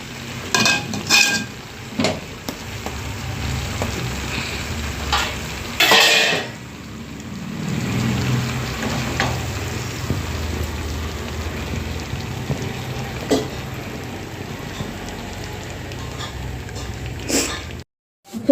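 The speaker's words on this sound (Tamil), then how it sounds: "பிரட்டி சிக்கனை போட்டு அதில் பிரட்டி எடுப்போம்" A spoon stirs chicken through frying devil curry in a pan, with scraping, clinking stirs and a steady low sizzle over about eighteen seconds, some strokes louder and sharper than others, no talking.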